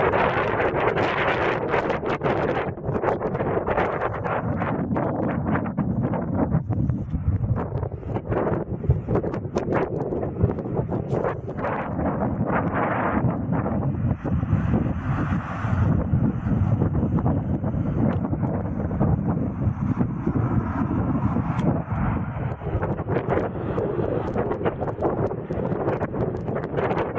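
Wind at sunset in Las Vegas, New Mexico blows steadily and loudly outdoors, buffeting the microphone with a constant rumbling roar for the whole stretch, with no talking.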